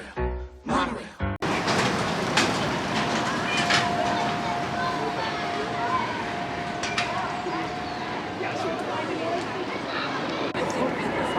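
Amusement park monorail rolling past nearby, a steady rumbling rush of wheels on track with a faint whine, after a brief burst of voices at the start.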